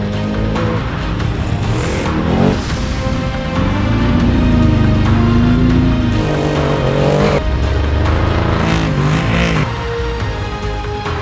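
Off-road race trucks roar through the unlimited race at the Mint 400, a loud, continuous layered engine drone with rising and falling revs across several machines, some passing close, with no talk over it.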